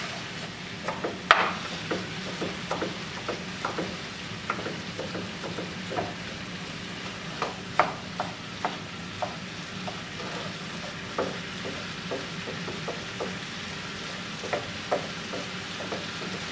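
Lean ground beef frying in a pan with a steady sizzle and frequent clicks and scrapes from stirring, close and continuous, with no talking.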